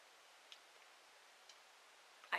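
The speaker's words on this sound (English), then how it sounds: "I hear some clicking and it's the clock." A clock ticks faintly at a slow, steady interval, with two soft ticks about a second apart, heard alone in a quiet room and followed by a brief louder click at the end.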